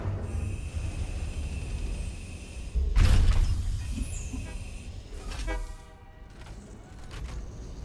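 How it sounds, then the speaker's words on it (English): A train horn in the video game Satisfactory sounds in a long blast over steady rumbling engine noise, followed by fainter repeated tones as the train rolls on. "I think you time it from the train horn"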